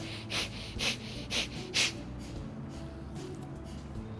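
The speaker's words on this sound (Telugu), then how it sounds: "ఎడముక్కు రంధ్రంతో శ్వాసని తీసుకొని వదులుతూ ఉండండి." Bhastrika pranayama breathing through the left nostril with the right one closed, four forceful, rhythmic nasal breaths close up, each a sharp rushing snort, then quiet room tone.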